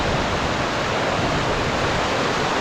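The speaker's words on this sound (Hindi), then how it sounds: "यहाँ से ये पानी अब नीचे एक वाटरफॉल की सूरत में जा रहा है।" A mountain stream in the Gilgit region tumbling down as a waterfall, a loud, dense and unbroken hiss of rushing water heard up close and alone.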